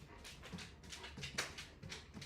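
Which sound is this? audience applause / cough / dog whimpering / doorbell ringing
dog whimpering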